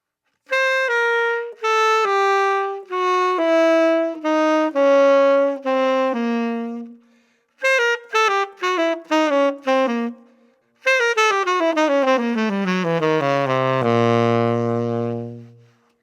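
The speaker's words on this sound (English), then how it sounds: "When we mush all those notes together, you actually end up playing the half-whole diminished scale." A solo instrument plays quick runs of clear, separate notes of a half-whole diminished scale lick, rising and falling in short phrases with brief pauses, ending on a long low held note.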